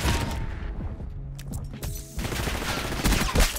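Rapid gunfire in a Black Ops 6 multiplayer match, dense overlapping volleys of shots and mechanical clatter, loud and continuous with a brief thinner lull midway.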